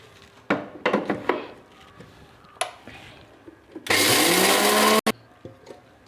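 A kitchen mixer grinder grinds dried red chilies for sambar powder in one loud, continuous burst of about a second, preceded by clinks and handling knocks as the jar is loaded.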